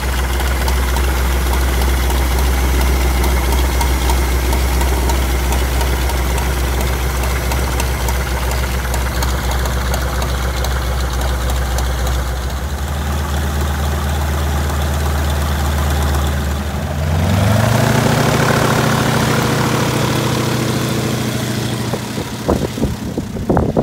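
The engine of a Sopwith Pup biplane idles on the ground before taxiing. It is a loud, steady, close rumble with a regular knocking pulse that shifts in pitch and roughness partway through, with no talk.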